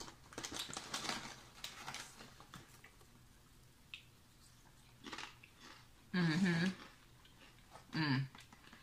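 Cheddar cauliflower crackers being chewed close to the mic, soft crunchy bites with faint murmured voice sounds in between, quiet overall.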